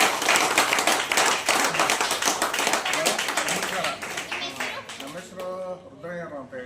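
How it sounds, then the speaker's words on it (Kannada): Clapping from an audience at a gathering, dense and steady at first, then thinning out toward the end as voices rise over the last seconds. "ಎಲ್ಲ ಒಮ್ಮೆ ಜೋರಾಗಿ ಚಪ್ಪಾಳೆ ಕೊಡಿ"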